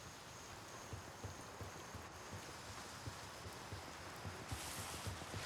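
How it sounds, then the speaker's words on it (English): Rain in the Gray Zone Warfare video game, a steady wash of falling water with soft irregular patter and low rumbles, moderately loud and continuous with no one talking. "The rain, goodness."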